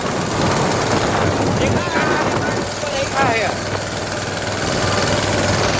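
A tractor engine runs steadily on a farm, a loud continuous rumbling drone close by, with a few brief voices and whistling sounds briefly over it around the middle.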